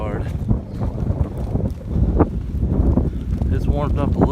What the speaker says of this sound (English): The wind is blowing very hard.